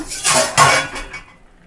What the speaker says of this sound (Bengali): দেখো ঢাকাটা খুলে নিলাম